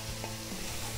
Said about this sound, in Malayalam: നമ്മുടെ സവോള വഴണ്ടു തുടങ്ങിയിട്ടുണ്ട്.